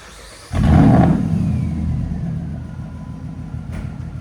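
A 2006 Ram 1500 SLT with a 5.7L HEMI V8 and true dual straight-pipe exhaust revs up sharply into a loud, deep rumbling roar, then settles back to a steady, throaty idle close by.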